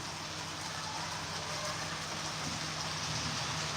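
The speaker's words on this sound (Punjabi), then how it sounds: "ਇਹੀ ਰਫਤਾਰ ਦੇ ਮੀਂਹ ਪਈ ਜਾਂਦਾ ਲਗਾਤਾਰ ਇੱਥੇ" Heavy rain falls without a break, a soft, even, distant wash of noise with a faint low hum underneath and no talking.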